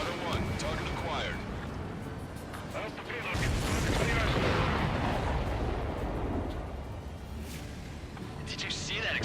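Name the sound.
missile explosion in video game Ace Combat 7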